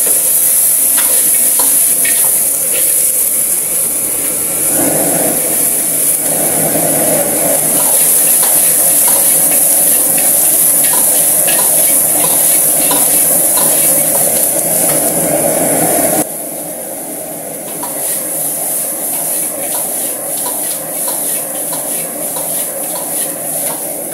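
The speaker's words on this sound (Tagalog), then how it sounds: "gisa-gisahin lang po natin kung kaya nyo mag-alog o kaya edi haluin nyo na lang po" Duck pieces sautéed in a pan give a continuous loud sizzle with repeated scraping and stirring clatter against the pan, close up, and no one speaks.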